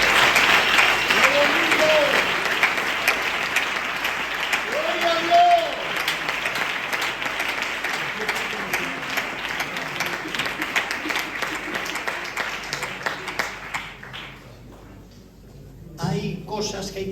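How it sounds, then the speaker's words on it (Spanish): A church audience breaks into sustained applause, dense clapping that is loudest at the start and slowly thins out, with someone speaking over it throughout. "Permítanme que les aplauda en gratitud."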